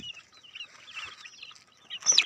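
Chickens cluck softly in a rural yard, a faint scattered murmur of short calls that swells into a louder cluck at the end.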